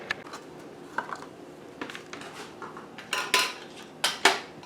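Glass canning jars knock and clink against each other and the metal rack as they are set into a canner, sharp scattered clinks growing louder toward the end, close up with no voices.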